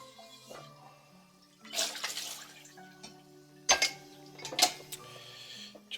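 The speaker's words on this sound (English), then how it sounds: "Right, I'm just quickly rinsing this pan." A non-stick pan is rinsed with hot water at a kitchen sink: faint trickling and splashes come in short bursts, with a few sharp clinks of the pan against the sink.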